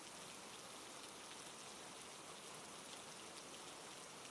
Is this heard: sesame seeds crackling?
no